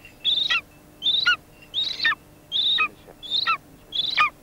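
A trained hunting golden eagle calls six times in a steady rhythm. Each call is a sharp, high, descending cry, close and clear, with short pauses between.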